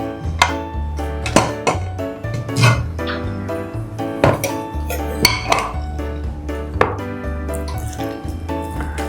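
After pulao finishes cooking, a pressure cooker is opened with several sharp metallic clanks and clinks of lid and pot, spaced irregularly over soft background music.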